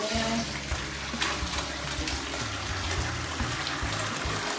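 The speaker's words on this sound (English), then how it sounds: "I will bring that over and we'll strain him off." Water pours and splashes steadily as cooked penne pasta and broccolini are strained, a continuous rushing gush with faint clatter underneath.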